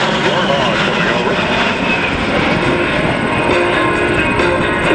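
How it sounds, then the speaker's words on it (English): An A-10 Thunderbolt II Warthog jet passes over an airshow at Selfridge, a loud, continuous broadband engine roar that holds steady throughout, with a voice speaking over it. "here's the first Warthog coming over"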